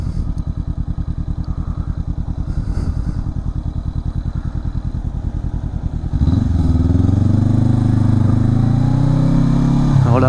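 A motorcycle engine thrums with a rapid idle-like pulse, then swells louder and revs higher while riding through the Vosges region between Nancy and Gérardmer, close and continuous.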